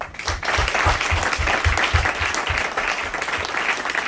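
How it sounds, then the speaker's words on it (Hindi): An audience at a speech event in a banquet hall claps loudly and continuously, a dense, steady wash of applause that holds for several seconds. "मैं चाहूंगा एक परम पिता परमात्मा के लिए जोरदार तालियां हों"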